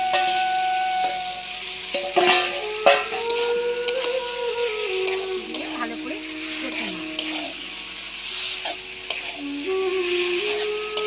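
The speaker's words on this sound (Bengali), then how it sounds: "কষানো হয়ে গেছে এবার এই ফুলকপি আলুটা আমি মেলে দেবো" Cauliflower and potato are stirred and fried in a pan, with a spatula scraping and clattering repeatedly over a constant sizzle while a voice talks intermittently.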